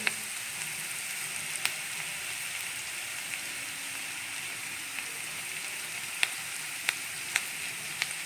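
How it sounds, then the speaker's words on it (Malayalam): Mustard seeds and chili powder fry in hot oil in a pan, making a continuous soft sizzle broken by occasional sharp pops and crackles, close and alone. "അപ്പോൾ ആ ചട്ടി ചൂടാൻ ഞാൻ അതിലേക്ക് കടുക് ഇട്ട് കൊടുത്തിട്ടുണ്ട്"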